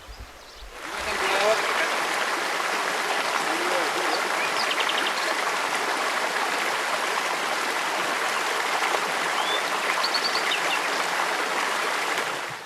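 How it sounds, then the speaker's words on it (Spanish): The Vinalopó river runs high with floodwater near Novelda, a dense, even rushing roar that swells in within the first second and holds steady, close and loud, with faint bird chirps above it. "el Vinalopó trae mucha agua y baja con alegría y gran alboroto hacia Novelda"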